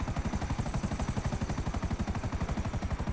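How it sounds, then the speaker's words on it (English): In a video game, steady, rhythmic helicopter rotor thumping with a rushing roar of wind buffeting through a broken window hole, continuous and fairly loud throughout. "I've got a big window hole, that's why it's making the funny noise, the wind's blowing in."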